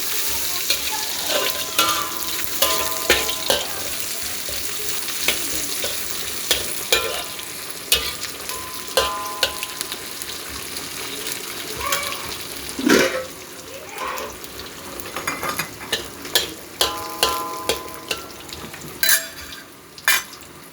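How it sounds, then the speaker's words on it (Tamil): Spices sizzle and crackle steadily in hot oil, with occasional stirring clinks and scrapes throughout. "இப்போ தாளிக்க வேண்டிய பொருட்களை எண்ணெயில் போடணும். போட்டு நல்லா வதங்கணும்."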